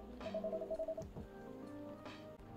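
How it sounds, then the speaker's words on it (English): A phone rings in the video game Coffee Talk, a short electronic tone pattern pulsing in a quick rhythm, then a steadier tonal hum over a soft game music bed, with no talk. "someone's phone is ringing"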